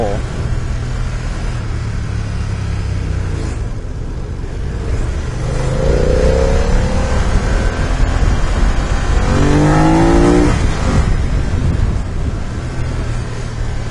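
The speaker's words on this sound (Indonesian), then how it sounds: "kita coba lihat gimana respon akselerasinya" A BMW F 900 R streetfighter motorcycle accelerates through busy traffic, its engine rising in pitch over steady wind rush, with someone speaking over the ride.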